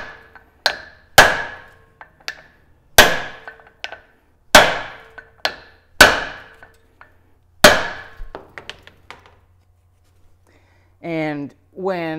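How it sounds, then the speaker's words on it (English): Brass hammer striking a brass drift against cone washers on a Land Cruiser CV axle, a series of sharp metallic blows in an uneven rhythm with small taps between them, followed by a short spoken phrase at the end. "Get my hammer so it's easier to get a good hit."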